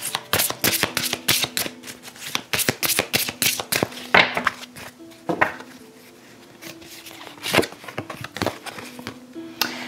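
Oracle cards are shuffled by hand in a quick, busy patter of papery slaps and flicks, close and fairly loud, with brief pauses between bursts.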